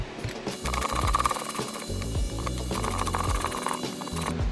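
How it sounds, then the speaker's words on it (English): An Allen key turns 1/8 inch set screws out of the front of an Aviaid 3-stage racecar pump, giving close, dry metallic ratcheting and clicking with short pauses between turns. "We're gonna go ahead and remove the set screws in the front of the pump. These are just 1/8 inch Allens."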